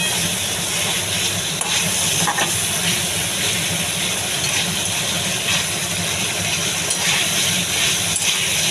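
Spice paste fries in a pan for doi potol, pointed gourd cooked in yogurt. A steady, even hiss runs without pause, close and moderately loud, with no talking.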